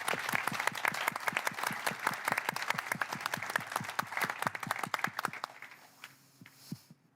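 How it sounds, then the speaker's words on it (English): A conference audience in a main-stage tent gives a round of applause, sharp distinct claps at first that thin out and fade to a few stragglers before quiet returns. "all the developers who've done this deserve a huge round of applause"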